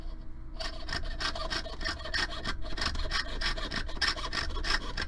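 A jeweller's hand saw rasps back and forth through metal for a stamped pendant in quick, even strokes, a harsh gritty scraping that keeps a steady rhythm throughout.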